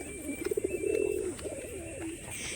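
Pigeons kept in a loft coo in a low warbling series, several bursts close by with a faint background hum.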